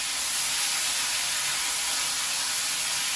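Pieces of fish fry in hot oil in a kadai, giving a loud, dense, unbroken close sizzle and hiss that holds steady throughout.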